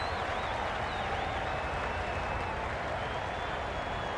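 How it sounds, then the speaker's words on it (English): A dense, constant roar of cricket crowd noise in the video game Cricket 22 during a T20 match, with cheering and whistles, steady throughout and filling the space. "The crowd are really getting quite raucous."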